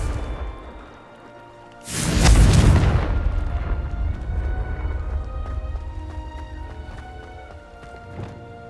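A Confringo fire spell bursts in Hogwarts Legacy with a sudden loud boom and rushing blast that rolls into a long rumbling decay, followed by faint footsteps and game ambience.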